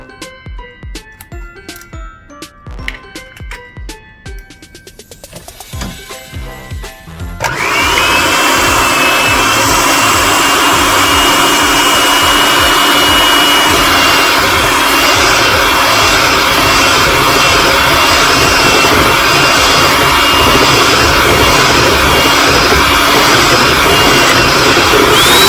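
An electric mixer beats eggs into gingerbread biscotti batter; a few light clinks come first, then the motor starts with a loud, steady whirring drone that runs unbroken to the end.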